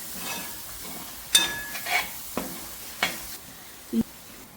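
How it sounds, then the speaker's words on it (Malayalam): Chicken masala spices fry in a pan under a soft steady sizzle. A spoon stirs them and scrapes or knocks against the pan a few times, and the sound is close with no talking. "രണ്ട് ടേബിൾ സ്പൂൺ ചിക്കൻ മസാല മസാലകൾ നല്ലോണം മൂത്ത് വരട്ടെ"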